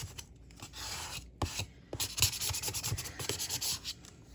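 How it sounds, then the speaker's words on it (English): A bone folder presses and rubs paper along the back of a handmade notebook, making soft, close scraping strokes in short repeated bursts. "Take your scraper tool or bone folder. Go ahead and press that down."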